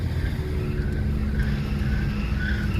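Interior road noise from a car driving with badly misaligned wheels: a continuous, loud low rumble and drone with a faint higher whine running steadily, close and unbroken, with no one speaking.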